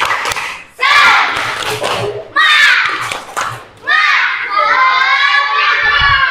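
A group of children chant and clap together in a rhythmic spirit cheer, loud and close, in four energetic bursts. The last burst is a long, sustained shout.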